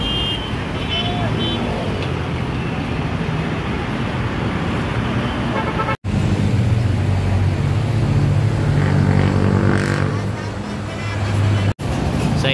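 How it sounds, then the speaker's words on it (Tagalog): An LRT 1 train, a fourth-generation set on an elevated track, passes by amid steady roadway traffic noise, swelling into a louder rumble and clatter toward the end. "naka-spotted po ulit tayo ng isang Port Gen na train na dumadaan dito"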